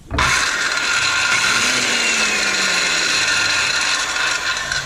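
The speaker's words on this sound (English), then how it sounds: "This is a rotary power saw." A rotary circular power saw starts with a sharp burst and runs at a loud, steady high-pitched whine for several seconds, close by and heard alone.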